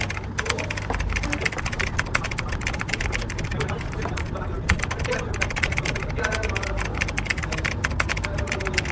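Rapid clicking keystrokes on a computer keyboard, close and steady with irregular bursts of taps over a low background hum, continuing for several seconds.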